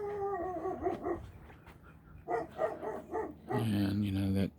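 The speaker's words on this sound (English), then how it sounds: "that crazy dog is here. I hope he doesn't try to bite me" Dog at an RV scrapyard barks and whimpers in short bursts, fairly close, with a few sharp yips and a louder run of barking at the end.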